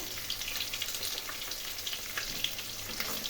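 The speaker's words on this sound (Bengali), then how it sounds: "জিরে একটু ভেজে নেব" Cumin seeds sizzle in hot oil in a pan, with fried rui fish pushed to one side, making a steady, close, hissing crackle that runs evenly throughout with small pops and no voices.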